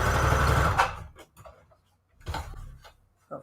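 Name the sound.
sewing machine stitching fabric scraps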